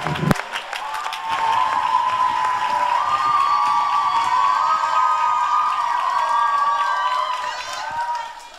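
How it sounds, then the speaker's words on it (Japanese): A church congregation applauds during a Friday overnight worship service, a sharp burst at the start giving way to sustained clapping and crowd noise with voices mixed in, fading near the end. "拍手お願いします。"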